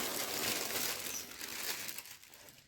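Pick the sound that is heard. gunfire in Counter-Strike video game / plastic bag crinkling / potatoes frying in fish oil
plastic bag crinkling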